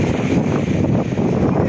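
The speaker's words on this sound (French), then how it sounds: "J'espère que le vent va se calmer." Strong wind gusts on a beach, a loud, steady roaring rush battering the microphone with no pauses.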